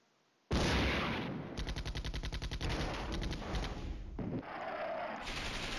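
Tank gunfire from an armored battalion in the wargame Flashpoint Campaigns: Red Storm, a sudden loud blast followed by rapid repeated firing and sustained booming, dense and close with no speech.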